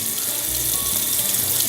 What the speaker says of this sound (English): what we want to do now is rinse off this turkey with cool water